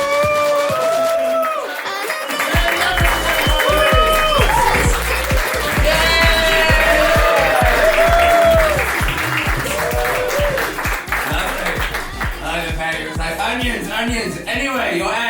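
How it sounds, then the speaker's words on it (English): A stand-up comedy audience claps and cheers loudly and steadily for about fifteen seconds, with crowd noise and scattered voices mixed into the applause. "So clap your hands, make a little noise."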